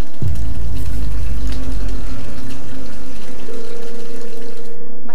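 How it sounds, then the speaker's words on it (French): Water from a tap pours steadily into a filling bathtub, a loud continuous gush close by with a faint tonal hum that stops abruptly at the end. "J'ai ouvert le robinet, j'ai attendu que la baignoire se remplisse."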